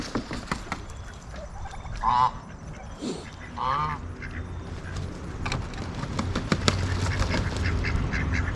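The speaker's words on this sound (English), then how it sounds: "As annoying as the geese are, you know, I say annoying, I don't mean it rudely, they're just so loud." Geese honk loudly in a few raucous bursts, close by, amid rustling and background farmyard noise.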